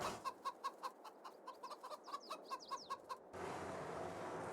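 Chickens cluck repeatedly inside a rural Canadian farm building, a busy run of short close calls that cuts off abruptly into a steady hiss of background noise.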